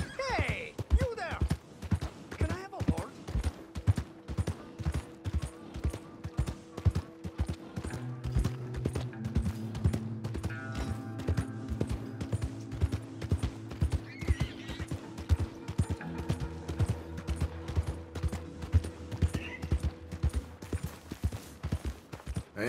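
Horse hooves clip-clopping in Red Dead Redemption 2, steady and fairly close, with an occasional neigh, running under voices talking throughout.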